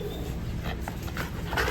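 Indoors, a dog lets out a few short, fairly faint barks and yips over a low room hum.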